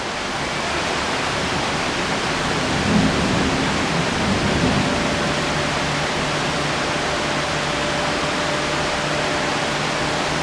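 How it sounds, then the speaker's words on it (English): A thunderstorm pours heavy rain over the bay at Pattaya, a loud, unbroken wash of rain noise with a soft low rumble of thunder near the start. "Just arrived home from Japan and I'm welcomed by this beautiful storm."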